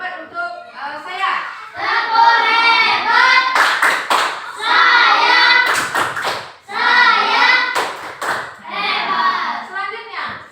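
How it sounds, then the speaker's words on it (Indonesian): Children's voices chant the rhythmic 'tepuk hebat' clapping cheer in a classroom, sung phrases punctuated by sharp groups of hand claps, loud and close, repeating several times. "Tepuk hebat untuk saya."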